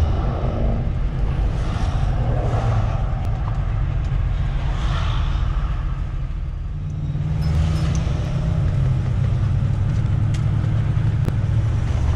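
An RV cruises along the interstate in South Carolina, a steady loud road rumble and drone that dips briefly midway before holding on.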